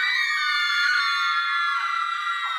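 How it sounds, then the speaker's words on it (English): A teacher and schoolchildren scream together in a classroom, a loud, sustained shrill chorus of high voices that holds steady for a couple of seconds before tapering slightly near the end. "The teacher and all the other kids in the class turned their heads to look at the window, and they all started screaming."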